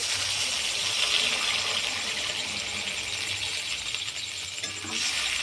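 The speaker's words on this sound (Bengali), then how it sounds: "এবার পরিমাণ মতো জল দিয়ে দেব।" Water added to fried potatoes and masala cooking for mung dal: a steady, loud sizzling hiss from the hot pan, continuous throughout with faint stirring clinks.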